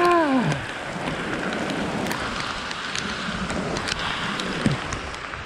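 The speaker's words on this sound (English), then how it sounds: "Well, it's raining cats and dogs now." Heavy rain pours down in a dense, steady hiss, loud and close, with a brief squealing tone at the start.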